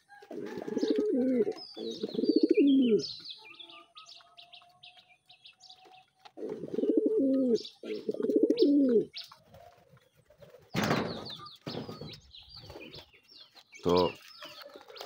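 Sirazi pigeon squabs and adults on a pigeon farm give repeated rolling coos in bursts, close and clear, with lighter chirps and brief rustling between the calls.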